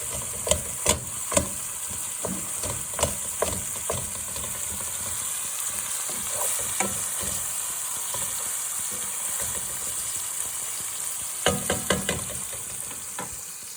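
Ground meat is broken up while it fries in a pan for a Joe's Special, giving a steady broadband sizzle throughout with scattered sharp scrapes and clacks of a utensil against the pan, loudest at the start and near the end.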